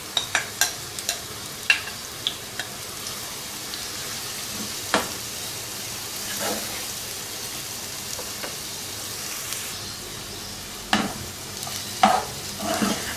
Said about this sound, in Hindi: और ये अनियन इसमें डाल के इनको लाइट गोल्डन फ्राई कर लेंगे